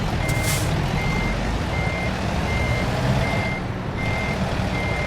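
Steady, evenly spaced reversing beeps from a Volvo truck backing up in American Truck Simulator, ringing out over a constant low engine rumble with no talk.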